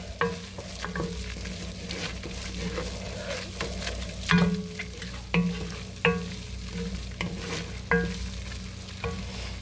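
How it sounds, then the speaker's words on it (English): A roux for chicken and dumpling gravy is stirred in a pan over low to medium-low heat, with a quiet sizzle under repeated scraping strokes of the spoon. "Make sure you turn your heat down to low, medium low, and stir this up."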